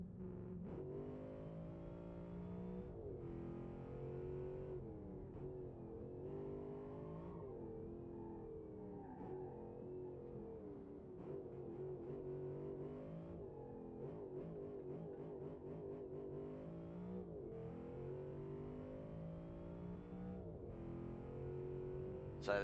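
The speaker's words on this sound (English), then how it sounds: "So this the V6 now becomes a 6-liter V8 engine." A 6-litre V8 engine swapped in for the V6 of a ute in a video game revs repeatedly, with steady rises and drops in pitch and a few quick blips, close and continuous throughout.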